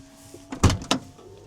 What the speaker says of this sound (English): the power steering pump